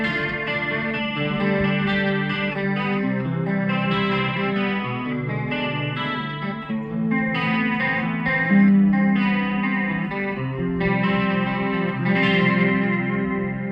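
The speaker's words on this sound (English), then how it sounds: "Next is the chorus. It's just a micro chorus," An electric guitar plays through a one-knob micro chorus pedal, shimmering, gently wavering chords and single notes ringing out with a lush modulated tone, close and clear, no talking.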